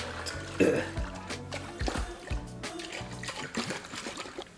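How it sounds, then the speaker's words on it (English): A sealed container of honey and water for mead is shaken by hand, giving close, irregular sloshing and splashing bursts that keep churning throughout. "I'm just gonna seal it up because I want to shake it."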